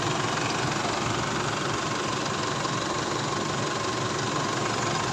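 Isuzu D-Max engine idling with a fault that makes the RPM drop, a steady, loud, close mechanical drone with a faint knocking texture, unbroken and without voices.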